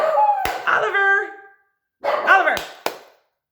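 Pet puppy Oliver barks indoors in two close, bright bursts of yippy, tonal barks separated by a brief pause, with a couple of sharp clicks or knocks mixed in.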